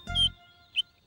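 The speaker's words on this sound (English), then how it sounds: "It was the cheeping of a baby bird." A baby bird cheeps twice, each a thin high peep, the first following a brief low thump, then a second short chirp a moment later, faint and close.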